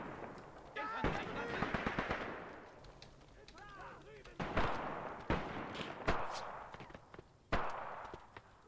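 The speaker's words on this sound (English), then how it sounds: "Look at this guy shooting his pistol at the enemy." Pistol and machine gun fire from a night battle at a river bridgehead in Graviteam Tactics, sharp cracks and bursts scattered over several seconds, mixed with whistling tones and heard alongside someone talking.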